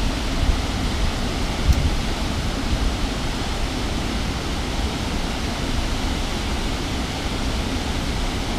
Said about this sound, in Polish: No rzeczka widzicie piękna, naprawdę malownicza.